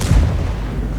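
A single heavy tank cannon blast in a video game booms loudly and decays into a low rumbling tail.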